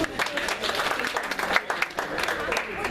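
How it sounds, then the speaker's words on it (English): Audience applause at a live comedy or improv show, a steady round of clapping from the crowd with a voice speaking over it. "Round of applause for Kelsey."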